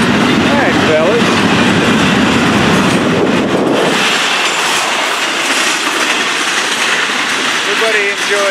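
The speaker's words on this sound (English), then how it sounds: "Alright, let's take a look at this train." FEC 101 freight train passing close by: a loud, steady rumble of railcars with clickety-clack wheel noise throughout and brief wheel squeals near the end.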